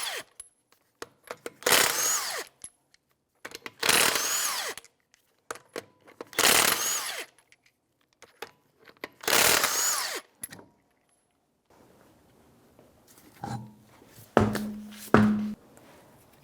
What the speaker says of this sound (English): 21mm socket, and we'll take the lug nuts off.